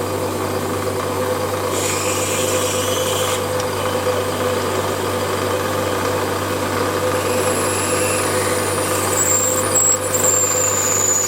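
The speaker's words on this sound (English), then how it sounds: "And commence drilling." A Warco WM180 lathe drills into a workpiece, its motor humming steadily with a continuous whine and faint cutting noise throughout, close and alone.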